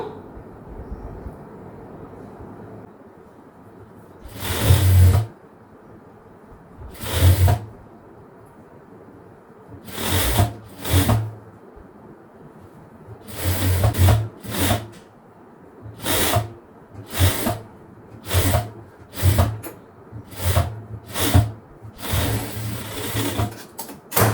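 A sewing machine stitches a half-circle maxi dress with princess cut, running in a dozen or so short bursts separated by pauses, fairly close and clear, with no talking.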